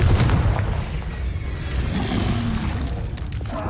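Bombarda and Confringo spell explosions in the Hogwarts Legacy video game, a dense rumbling boom with crackling debris that fills the whole stretch at steady loudness, no voice over it.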